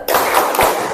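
Several quick, loud hand claps land in rapid succession in a classroom during the 'tepuk fokus' clapping game, close and sharp, with no voices.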